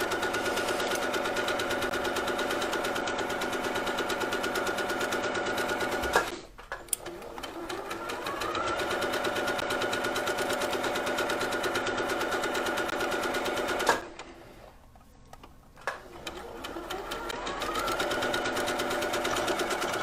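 A sewing machine runs steadily while stitching the front and back seams of a dress, pausing briefly twice before resuming its rapid, close, even whir.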